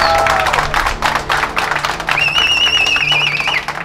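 Audience applause at a charity fight weigh-in, scattered clapping under a voice over a PA, with a brief whistle-like tone near the end.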